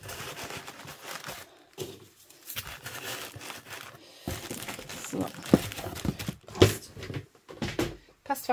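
Packing paper crumpled and crinkled by hand while cushioning a parcel box, rustling in uneven bursts close to the microphone, with a voice speaking between the crinkles.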